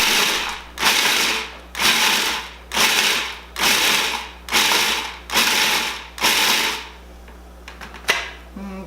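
Food processor pulsing pecans for pecan bars, with seven even bursts of whirring and chopping, each about half a second long and separated by short gaps, loud and close, and a few light rattles at the end.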